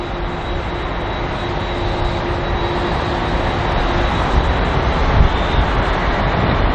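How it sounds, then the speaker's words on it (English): A British Airways A320neo airliner arriving at Heathrow, a loud, steady engine roar with a faint whine that holds evenly and builds only slightly, with no talk over it. "this aircraft there is the British Airways A320neo, arriving from Hamburg on this 1 hour and 23 minute long flight"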